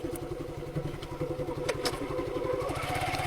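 A Suzuki Gixxer motorcycle slows under braking, its engine pulsing in a steady, close, moderately loud putter with some mechanical clatter and no talk over it.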